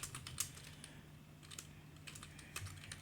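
Quiet typing on a computer keyboard, a scattering of soft key clicks at an uneven pace over low background hum.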